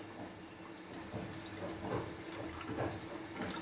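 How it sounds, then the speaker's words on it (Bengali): Water is poured from a tap or jug into a bowl that holds two fish, making a soft, steady splash and trickle that stays fairly quiet throughout, with no talking. "এখানে আমি একটু জল দিয়ে দেবো।"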